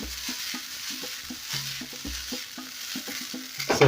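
Vegetable fried rice made from leftover rice being stirred and tossed in a hot pan, with a steady sizzle under repeated scraping, clattering strokes of a spatula close by.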